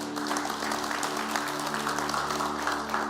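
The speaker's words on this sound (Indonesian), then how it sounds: "Berikan tepuk tangan buat Tuhan" A church congregation claps during a sermon, a continuous even patter of applause with a low sustained tone humming beneath it.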